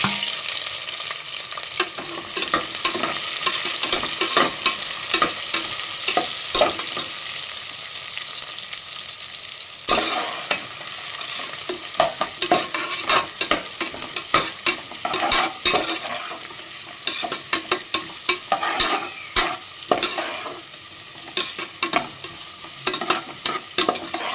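Three thinly sliced onions sauté in hot oil for vegetable biryani, a loud, continuous sizzle broken by frequent rhythmic scraping strokes of a stirring spoon, with no voices.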